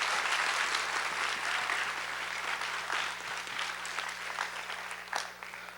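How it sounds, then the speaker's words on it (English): An audience at a middle school spring choir concert applauds, a steady wash of many hands clapping at moderate distance, sustained throughout and tapering near the end. "Can we give a round of applause for Mr. Joe Augusta?"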